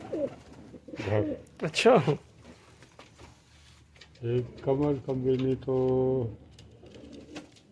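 A pigeon about five years old coos near the microphone in several deep, pulsing bursts, with someone talking in between and over the calls.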